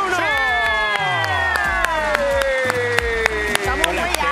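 A TV studio audience on a Latin entertainment show claps in scattered, sharp bursts over loud music, with a host's voice on top.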